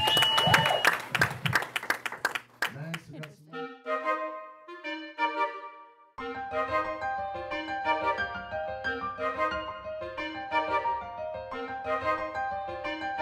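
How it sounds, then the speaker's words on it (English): A few seconds of audience clapping, loud and close with sharp irregular claps, quickly give way to bright melodic music with sustained tones that carries on for the rest of the span. "Let's hear it for a big round of applause."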